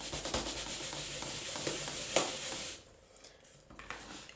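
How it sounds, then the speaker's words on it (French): Close, steady scraping as something is rubbed over a handmade paper greeting card with a small flap, continuous for under three seconds, then breaking into a few faint scuffs and near silence. "Donc là on frotte."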